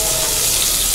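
Chopped onion hitting hot oil for a chicken-thigh fry, a dense, steady hiss that fills the whole short moment up close, with no voice over it.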